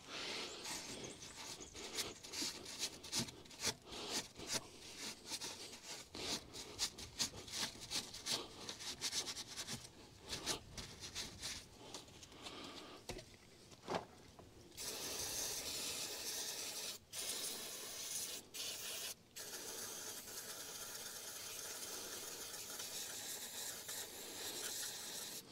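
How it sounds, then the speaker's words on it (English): Degreaser is sprayed onto caravan wheel bearings and scrubbed, with dense scratchy rubbing strokes in uneven bursts, then a long continuous hiss of spray broken by brief pauses, close and quiet. "A little bit of degreaser. Give them a little bit of a degrease off."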